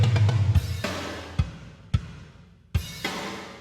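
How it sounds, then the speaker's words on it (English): Sparse drum kit hits ring out with swirling, sweeping flanger tails and a long washy reverb echo, each strike decaying slowly into the next. "Definitely some flanging and some reverb happening."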